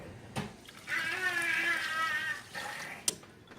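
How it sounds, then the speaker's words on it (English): Two cups of broth pour into a pan on medium heat, a soft, steady liquid stream lasting a couple of seconds, flanked by faint clinks of the container and pan. "Now we're going to add in our 2 cups of the broth that I showed you earlier."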